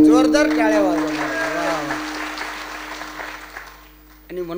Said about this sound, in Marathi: जोरदार टाळ्या वाजवणार.